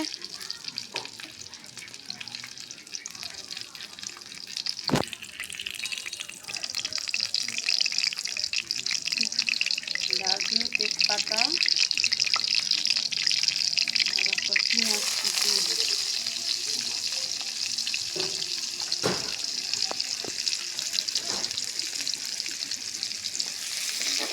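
Vegetables frying in oil in a pan give a steady, loud sizzle that runs the whole time, with a few sharp utensil knocks and a brief scrape or stir.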